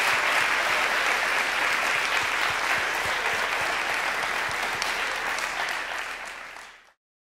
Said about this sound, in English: Can we give one more big round of applause to Dr. Patterson, Dr. Schloss, and Dr. Tooby?